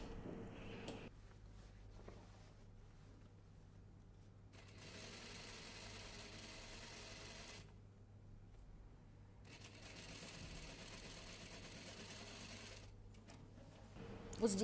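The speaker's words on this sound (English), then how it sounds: "Have a close look at the way Natalie is stitching the seam." A sewing machine stitches the seam of a dropped-shoulder dress in two faint runs of mechanical whirring, separated by a quiet pause with a low hum.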